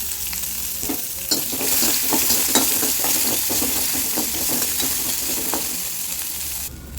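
Small onions (shallots) sizzling and frying in a hot pan, a continuous crackling hiss with occasional stirring clinks, fairly close, no voices.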